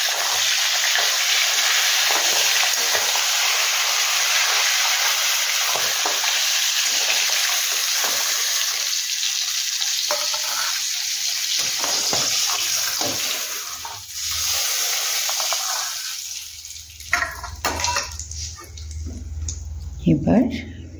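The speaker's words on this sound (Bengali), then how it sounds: "এবার আমি মাছটা দুটি ভেজে নিয়েছি, একটু কমিয়ে দিই।" Fish frying in a pan on a stovetop, a steady broad hiss and sizzle running throughout under occasional clatter and soft speech.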